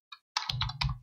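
A few quick keystrokes on a computer keyboard as an email address is entered, a single click followed by a rapid, close cluster of taps, with no talking.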